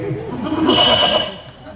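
A voice imitates a goat's bleat during an outdoor Ramleela stage play at an ashram, a wavering nasal cry that rises and falls for under two seconds, close and loud, with crowd chatter beneath.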